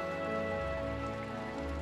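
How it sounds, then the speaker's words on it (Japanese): Steady rain falls in the video game Nights of Azure, a dense and even patter that holds at the same level throughout while a sustained tonal background runs underneath. "こんな雨久しぶり。"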